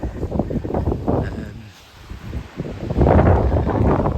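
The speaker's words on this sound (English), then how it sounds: "Hopefully the wind is being picked up on the camera as well." Strong gusty wind during storm Darragh buffets the microphone on a morning walk through Melbourn, loud roaring bursts that ease briefly, then surge again.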